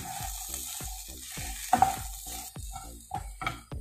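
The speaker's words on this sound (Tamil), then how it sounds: "சேர்த்துட்டு நல்லா கலக்கி விட்டுருங்க." Chilli chapathi with lime juice is stirred in a hot pan, with about ten rhythmic scraping strokes over a soft sizzle. The scrapes are close and fairly loud, and there is no speech.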